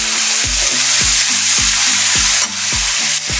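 Mixed colourful vegetables stir-fry in a pan for Maggi masala noodles, a loud, steady sizzling hiss running without pause, with a repeating tonal pattern underneath and no voices.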